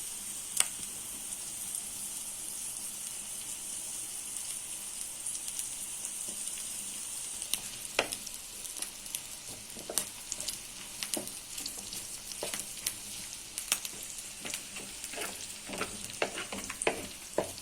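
Liver frying in oil for Gaziantep-style kavurma, a steady close sizzle with sharp crackles and spits growing more frequent midway, no talking.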